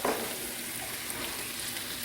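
Seasoned onions and celery stirred in a frying pan, a steady soft sizzle with faint scraping, continuous and fairly quiet throughout with no talking.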